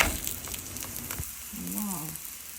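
A sabudana paratha sizzles in oil on a hot tava, a soft close crackling hiss running under a brief clattering knock and a short tonal squeak of the pan.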